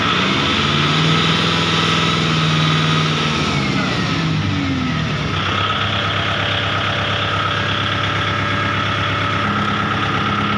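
A Kubota MU 5501 tractor engine idles close by, a continuous low, even rumble with a slight pitch change midway and no voices over it.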